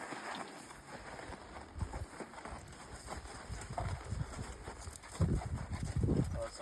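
Horse hooves clip-clop along a trail while a second horse is ponied beside the rider, a steady uneven patter of hoofbeats close by with outdoor background noise and no speech.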